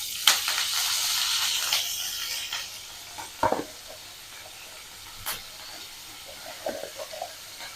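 Mustard seeds, cumin and curry leaves sizzle in hot oil in a pan while egg biryani is being made. A soft steady hiss runs under scattered sharp pops and a few light utensil clicks.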